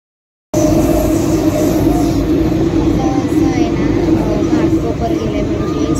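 A Mumbai local train rumbles loudly on the platform at a busy station, a sustained deep roar after a brief silent start, with crowd noise and a person talking over it.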